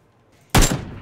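One sharp, loud gunshot from the video game PUBG, a sudden blast with a short decaying tail after near silence.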